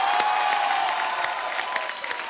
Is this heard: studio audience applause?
yes